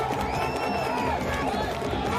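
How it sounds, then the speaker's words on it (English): A large crowd cheers and shouts at an outdoor kabaddi final, a continuous dense roar of excited voices with some whoops rising above, steady and loud throughout. "The crowds are so excited to have him here to witness the game."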